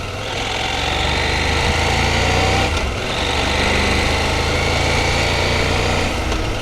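CFMOTO Ibex 800T motorcycle engine cruising on a highway, a loud steady drone with wind roar throughout and a brief dip midway.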